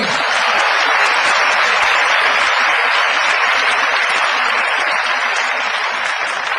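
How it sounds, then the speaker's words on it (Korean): An audience at a lecture at Chungnam National University claps in a loud, continuous burst of dense applause lasting several seconds, with no speech over it. "박수 한번 치는 겁니다."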